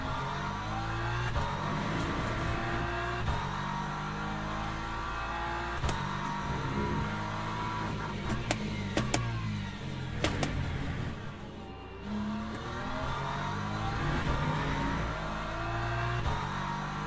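Race cars in the Le Mans Ultimate sim at Bahrain, a continuous engine drone rising and falling through gear changes, with sharp brief clicks and other cars passing close by.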